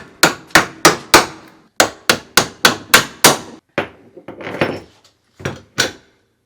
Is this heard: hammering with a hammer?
yes